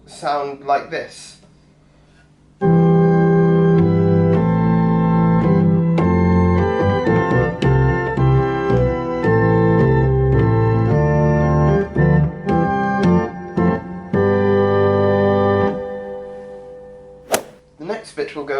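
A church organ plays the hymn tune Abbot's Leigh, sustained chords with a moving pedal line, loud and steady for about thirteen seconds after a brief spoken lead-in, ending with a short voice.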